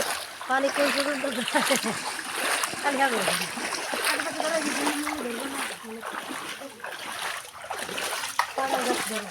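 Continuous splashing and sloshing of people wading through waist-deep floodwater in a river area, close and busy throughout, with voices talking over the water.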